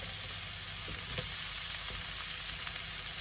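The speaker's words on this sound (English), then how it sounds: "Fry that up." Steak and carrot fry in a hot pan with a constant, even sizzle. A few soft knocks of a utensil sound near the start.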